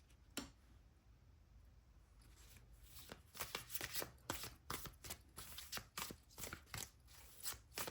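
Tarot cards are shuffled and drawn by hand during a reading, a quiet series of crisp flicks and soft slaps, sparse at first then quicker irregular snaps, close and alone without speech.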